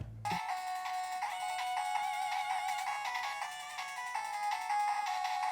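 Bright chiptune bleeps and beeping melody from an 8-bit handheld retro game console play continuously, thin electronic tones with a rhythmic pattern, moderately quiet and without any voices.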